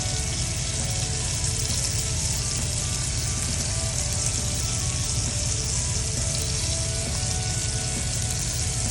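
A 12 oz ribeye steak pan frying in butter inside a truck, a steady dense sizzle running the whole time, close and loud with no voices.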